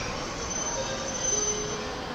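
Steady rumble of a Japan Railways train arriving at Ueno station, with a thin squeal of wheels and a constant mechanical hum.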